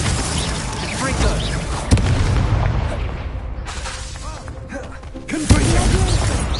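Confringo spell blasts from a Harry Potter-style video game burst as two loud booming impacts with crashing debris, one near two seconds and another near five and a half, over a dense rumbling game soundscape.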